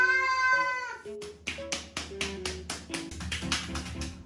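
A cat meows repeatedly while being scratched along its back during a bath, a series of plaintive, wavering cries up close, the first one long and drawn out and the later ones shorter and closely spaced.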